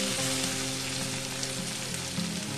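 Snake gourd pieces fry in hot oil, producing a dense, even sizzle and crackle that holds close and steady for the whole stretch, with no one talking.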